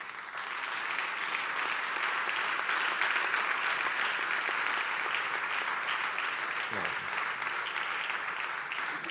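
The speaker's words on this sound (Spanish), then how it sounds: "Recibimos con un fuerte aplauso a Pipe Areta." An audience at a festival colloquium gives a sustained, warm round of applause to welcome a triple jump champion, dense even clapping from a large crowd lasting about nine seconds.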